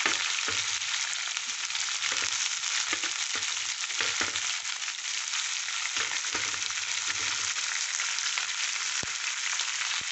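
Ginger pieces and green chillies fry in a pan with a steady, loud, continuous sizzle that holds throughout, broken by occasional soft stirring knocks, with no voices.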